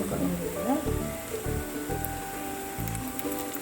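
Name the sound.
ragda patties frying in oil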